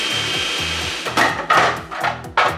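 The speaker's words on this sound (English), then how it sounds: "Start the food processor and mix the ingredients for about 10 seconds." A food processor blending basil pesto ingredients, a steady motor whir with a low pulsing hum, broken by several louder bursts of chopping and scraping as the blades churn.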